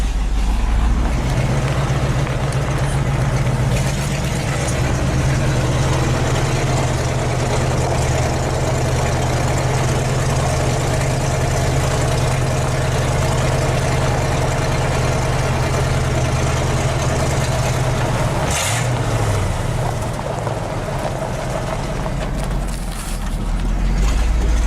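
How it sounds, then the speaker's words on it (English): Car engine running with its exhaust glass packs cut off, a loud, steady low rumble and drone held for most of the stretch, dipping briefly near the end as if the revs change, with no talking. "we're gonna take her around the block to see how she sounds without the glass packs"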